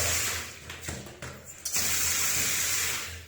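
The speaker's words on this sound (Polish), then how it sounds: "Woda leci, jak widzicie, jedna." Water runs steadily from a newly installed bathtub faucet, a continuous close hiss of flow that briefly shifts and resumes as the stream changes, with no speech.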